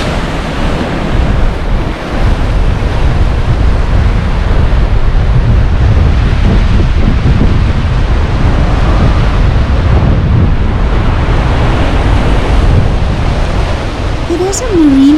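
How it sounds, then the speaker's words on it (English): Ocean waves crashing against rocks along the coast at Storms River, a loud continuous roar of surf mixed with heavy wind buffeting the microphone for the whole stretch. "Look at these waves bash against the rocks here."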